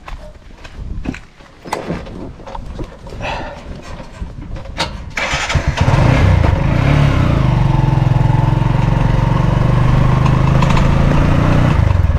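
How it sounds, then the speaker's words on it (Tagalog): Clicks and cranking lead into a motorcycle engine catching and starting, then settling into a loud, steady close-up idle. "Pandar ko na yung makina."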